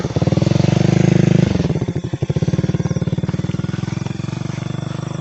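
A motorcycle engine runs close by with a steady throbbing putter, dipping briefly as the revs change before settling back into an even idle.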